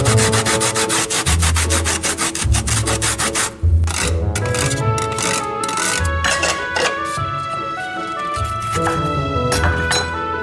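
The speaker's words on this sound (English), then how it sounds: "the first thing we need to do is zest these two lemons and juice them" Two lemons are zested in fast, rhythmic rasping strokes across a grater, steady and close, with a brief pause midway and faint music underneath.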